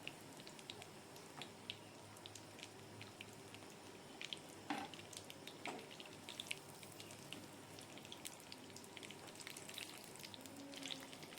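Pointed gourd (potol) pieces, some fully peeled and some scraped, frying in a covered pan for a vegetarian dish, giving a steady soft sizzle with faint crackles and pops and no talk.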